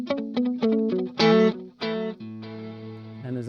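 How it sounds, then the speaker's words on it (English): Electric guitar notes and chords pass through a Source Audio Encounter delay and reverb pedal, each plucked phrase trailing into echoing repeats and a washed, ringing tail, with a sustained chord decaying at the end and no voices. "as I change the controls, you can hear it brings in the reverb on my delayed signal"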